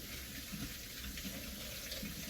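Water runs steadily from a tap as shampoo is rinsed out of short hair, a soft continuous hiss with faint splashing, quiet and close, with no talking.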